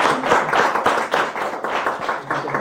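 Audience applause at an Amnesty International assembly in Castilla-La Mancha, a close, busy patter of many hands clapping with uneven, pulsing bursts throughout.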